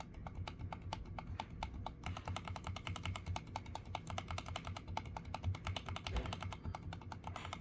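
Fingers type steadily on a mechanical keyboard fitted with double-ring switches, a dense, continuous run of close, crisp clacks and clicks with no pauses.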